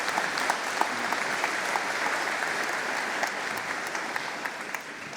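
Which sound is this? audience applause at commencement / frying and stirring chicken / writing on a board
audience applause at commencement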